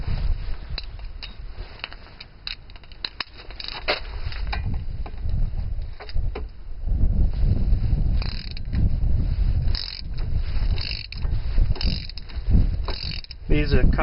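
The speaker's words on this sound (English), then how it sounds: "first we're going to remove this Torx bolt with our T40." A ratchet fitted with a T40 socket works a Loctite-coated Torx brake bolt on a 2005 Mercury Montego AWD, giving close, irregular clicking and mechanical grinding with a steady background hum.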